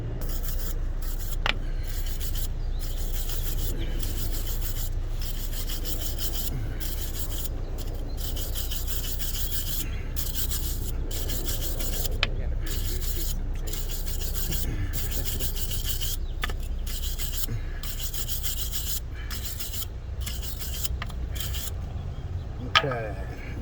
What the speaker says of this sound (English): we'll try sanding, wire wheeling, or wire brushing this up and loosening that